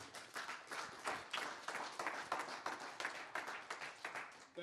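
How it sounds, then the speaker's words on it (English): An audience claps for Councilman Tate at a community event, fairly faint, with individual claps audible in an uneven, rhythmic patter. "So give Councilman a big round of applause."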